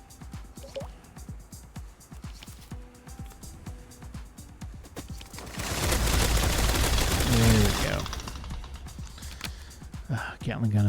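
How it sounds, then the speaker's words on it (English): A Gatling gun card animation from the digital card game Ascension fires a loud sustained burst of rapid mechanical gunfire in the middle, framed by quieter clicks and whirring game effects before and after. "your quote-unquote wizard just pulls out a massive gun"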